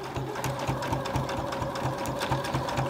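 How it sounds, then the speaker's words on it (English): A sewing machine stitches a washable filter face mask with wire along its edge, running in a steady, close, rapid rhythm of needle strokes throughout. "now we can sew it on the way around"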